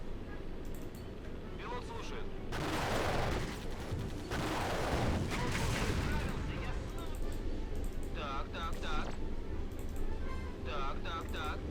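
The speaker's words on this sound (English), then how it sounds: "Are you just freaking mortars that are wrecking me?" Mortar fire in Blitzkrieg II comes as heavy, repeated blasts that swell over a steady battle din, with two big bursts in the middle and someone talking over the later part.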